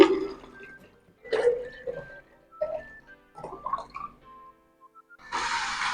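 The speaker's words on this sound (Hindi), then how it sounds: "इसको हम जग में ट्रांसफर कर रहे हैं।" Sour tamarind water for gol gappa is transferred into a jug. Scattered clinks and small splashes are followed by a short, close rush of pouring liquid at the end.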